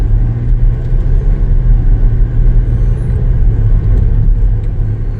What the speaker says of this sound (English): We have it in gear. Let's go ahead and take it for a spin.